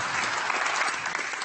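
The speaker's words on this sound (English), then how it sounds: "Can we get a round of applause" Brief, dense applause from a conference audience at a government tech forum after a health panel, many hands clapping steadily and close for about a second and a half.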